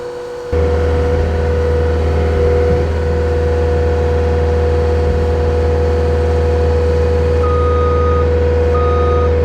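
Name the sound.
skid steer reversing beeps while pushing log wall into line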